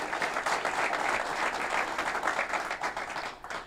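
An audience at a road development project announcement applauds, a dense, sustained wash of many hands clapping at moderate distance for several seconds.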